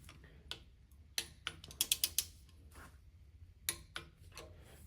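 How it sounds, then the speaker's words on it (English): Torque wrench ratcheting on the cylinder head bolts of a small-block Chevy 385 stroker: faint, sharp mechanical clicks arriving in short irregular clusters, with quiet gaps in between. "I'm going to go ahead and get my torque wrench set up here"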